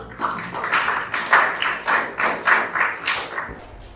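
A classroom of students applauds a classmate named Sri, with rhythmic rounds of clapping pulsing steadily and close for several seconds before stopping.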